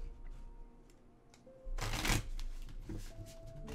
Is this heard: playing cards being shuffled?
yes